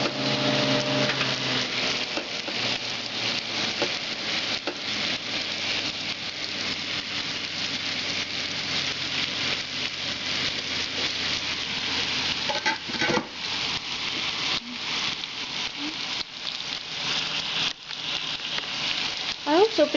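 Small-cut potato pieces frying in a hot pan, steady crackling sizzle with scattered pops, plus occasional scraping and stirring clinks of a utensil against the pan.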